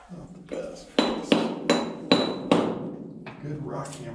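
A rock hammer strikes rock inside an underground autunite and beryl mine, delivering about five sharp, ringing blows at a steady rhythm with echoing decay, followed by softer taps.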